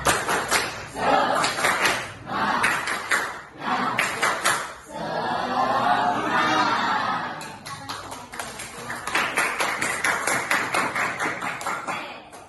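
A school class claps in quick rhythmic bursts, breaking off in the middle for a loud shared chant before resuming the patterned clapping.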